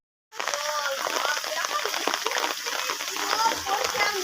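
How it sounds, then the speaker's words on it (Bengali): Heavy rain pouring onto a rooftop terrace during a downpour, a steady dense hiss filling the whole clip with a voice talking over it. "আজকে প্রচুর বৃষ্টি হচ্ছে,"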